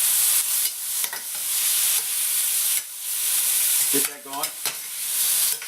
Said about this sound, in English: just saute these up a little bit.